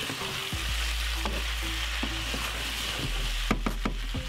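Vegetables stir-frying in a pan, a steady loud sizzle with repeated scraping and knocking of the spatula, quickening near the end, with no voices.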